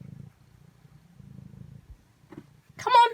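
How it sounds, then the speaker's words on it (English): A cat stuck on a roof purs close by with a steady low rumble lasting a couple of seconds, then a short, higher-pitched vocal sound ends the passage. "Hear her purring."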